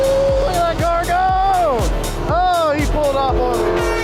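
Custom Ford Mustangs drag racing down a strip, engines roaring loud and close with repeated rising revs and sharp gear-shift drops, tires squealing as the cars launch, the sound steady and powerful throughout.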